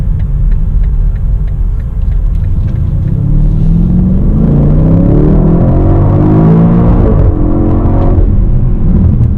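A 2020 BMW X5 M Competition SUV with rear-wheel steering swings through a very sharp U-turn, its engine a loud, steady rumble that rises in pitch and swells as it accelerates out of the turn, with no talk.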